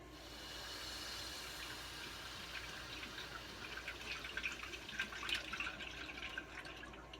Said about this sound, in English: I kind of slowly let the water build back up.